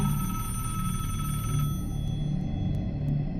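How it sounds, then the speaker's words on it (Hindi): A telephone rings steadily in an indoor setting, a continuous electronic bell tone holding at moderate loudness throughout with a faint low hum beneath, no voices present. "देखो खबर, किसका फोन है?"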